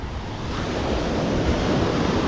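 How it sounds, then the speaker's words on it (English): Ocean surf rolls onto the beach at Playa Bavaro in Punta Cana, a steady close roar of breaking waves with wind buffeting the microphone, no voices. "So this is the beach"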